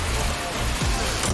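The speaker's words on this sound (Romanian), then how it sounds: "Mamă, plouă!" Rain falls steadily as a dense, close hiss on surfaces, continuous and fairly loud through the short stretch.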